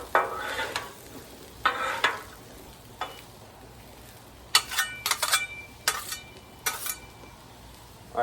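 Potatoes frying on a Blackstone griddle, heard as a quiet steady sizzle broken by repeated sharp scraping and clinking strokes of a spatula turning them, spaced irregularly across the stretch.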